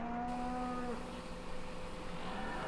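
Cows moo in the video game Farming Simulator 2013, one long, clear, drawn-out low call that fades, with faint game background hum and no talk.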